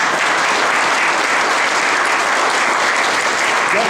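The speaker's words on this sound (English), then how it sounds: "If we can give him a round of applause." Dense, steady applause fills a community arts center anniversary celebration as an audience honors an artist in residence, a loud continuous roar of many hands clapping close by with no voices over it.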